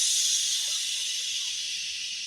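A group of young children hiss "shh" together in a school assembly, voices imitating a slow steam train letting off steam, a steady breathy hiss held for a couple of seconds.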